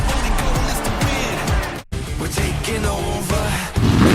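Diecast toy cars race down a track, a loud rolling rumble and whir under an excited race-call commentary voice, with a brief near-silent gap midway before the clattering run resumes.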